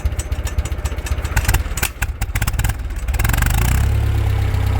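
An original 1969 Ford 5000 tractor engine idles with a loud, rapid, uneven chugging up close, then it is throttled up into a steadier, louder roar.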